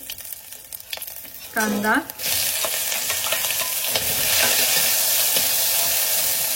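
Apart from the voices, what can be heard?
mustard seeds crackling in hot oil with spices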